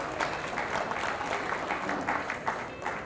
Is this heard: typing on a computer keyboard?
no